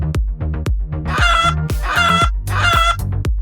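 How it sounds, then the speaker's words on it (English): Chickens clucking and squawking in a farmyard, loud and close, with repeated bursts of rough cackling calls in an uneven rhythm and no talk. "let's visit the chickens. Cluck, cluck."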